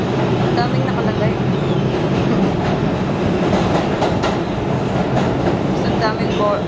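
Train rolling along the rails with a loud, steady rumble and faint clicking from the wheels, heard from inside a carriage, with people talking over it.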